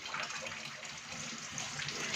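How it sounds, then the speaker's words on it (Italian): Fresh running water splashes steadily from a tap as fish and squid are rinsed clean for a Sardinian fish soup, a close, continuous gushing stream with no talk. "Tutte queste operazioni di pulizia ovviamente vanno fatte sotto acqua fresca, consumandone il meno possibile,"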